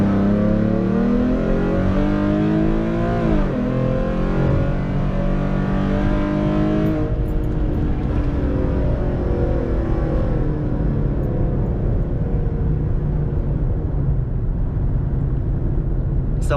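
A 2015 Ford Mustang V6, tuned on E85 with a cam, accelerates hard in second gear from about 30, its engine note rising steadily in a loud, close, continuous roar before easing off, with no talking.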